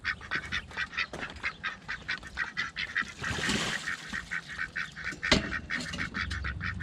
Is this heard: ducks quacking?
yes